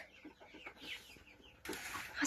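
Hens clucking nearby in a quick, uneven series of short calls in a rainy farmyard, with a louder rustling noise near the end.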